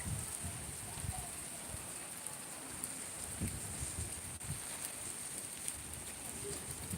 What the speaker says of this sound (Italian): Si è messo con impegni a piovere proprio.